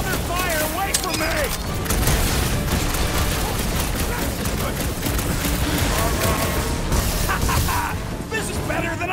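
Dense, rapid gunfire rattles nonstop during a Marvel's Guardians of the Galaxy combat scene, with booms and crashes mixed in. It stays loud and close throughout, while character voices shout over the battle.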